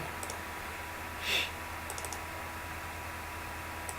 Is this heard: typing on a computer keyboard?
yes